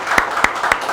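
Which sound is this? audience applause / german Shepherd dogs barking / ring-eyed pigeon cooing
audience applause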